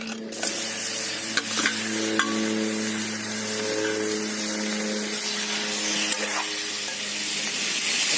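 Pork sizzling in a hot wok, a loud steady frying hiss with a few sharp clinks of stirring and a low hum running beneath, and no one speaking.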